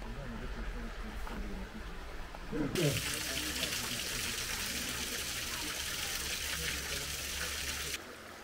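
Mine water gushes from an outflow pipe at Alsósajó in a steady, loud, broad rush that continues throughout with no pause.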